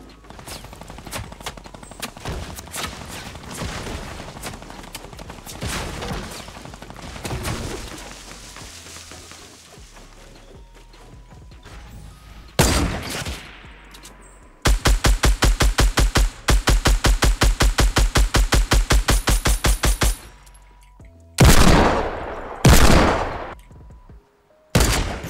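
Fortnite gunfire rings out close and loud: scattered single shots early, then a long rapid automatic burst and several more heavy blasts near the end, with occasional voice underneath.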